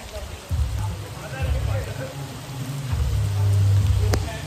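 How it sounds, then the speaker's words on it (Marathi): Heavy rain pours outdoors during a monsoon outing with friends, a dense continuous hiss with a deep low rumble that swells toward the end. "पाऊस पण खूप येतो म्हणून जरा मोबाईल ठेवून देतो"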